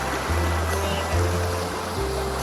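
Water from a stream at a resort in Thong Pha Phum flows steadily past the guest rooms, a constant close rushing wash with a low hum running underneath.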